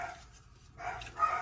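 A couple of muffled dog barks sound from a distance, separated by a short quiet gap.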